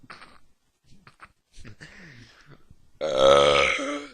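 A single long, loud burp closes the clip, preceded by quiet scattered mouth and body noises.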